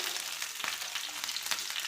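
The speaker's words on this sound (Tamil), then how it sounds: "கடுகு நல்லா பொரிய விட்டுடலாம்" Hot oil sizzles steadily with scattered sharp pops and crackles as seeds splutter, close and continuous, with no voices.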